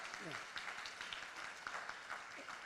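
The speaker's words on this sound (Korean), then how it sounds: "우리 박수로 환영하겠습니다" Congregation at a Pentecost all-generations church service clapping to welcome a visiting missionary couple, a soft, steady patter of many hands heard at a distance beneath a speaking voice.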